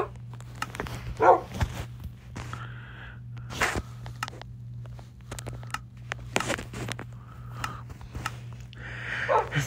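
A dog barks in a Minecraft game, with scattered sharp yelps and soft pattering footsteps over a steady low game hum; moderately loud, no talking.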